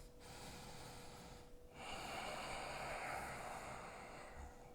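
Deep breaths taken during a yoga side stretch: two soft, airy breaths, one after the other, each with a steady rush of air and a brief pause between them, faint and close in a quiet room.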